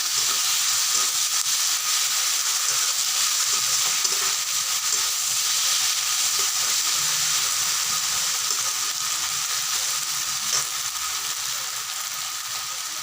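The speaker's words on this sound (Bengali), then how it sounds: "পেঁয়াজগুলো হালকা ভাজা হয়ে গেলেই আমি দিয়ে দিব জিরার গুঁড়া আর গোলমরিচের গুঁড়া।" Onions frying in a pan for a spicy chicken dish, giving a continuous dense sizzle and hiss that stays steady and close throughout, with no voices.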